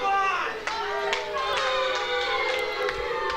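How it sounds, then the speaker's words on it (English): Wrestling crowd at an RCW event booing a wrestler after a high hip toss, a loud, sustained jeer of many voices filling the arena with scattered shouts throughout. "the people booing again"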